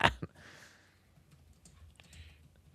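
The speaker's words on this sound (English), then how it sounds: "As I hear the keyboard chomping" Scattered computer keyboard keystrokes in a live radio studio, a few faint clicks after a sharp knock at the start, quiet against room noise.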